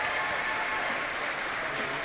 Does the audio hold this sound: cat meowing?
no